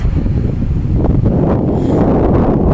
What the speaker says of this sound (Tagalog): Malamig ngayon, mahangin.